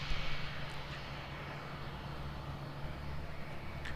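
An Airbus A320 airliner taxiing at Christchurch Airport, heard as a steady, fairly quiet engine rumble and whine from a distance, with no talking.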